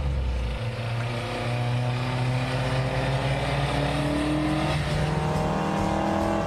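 A 1972 Lancia Fulvia 1600 HF with its front-drive V engine accelerates hard, a loud raspy drone climbing through the revs after a low idle start, heard close up and unbroken, without talk.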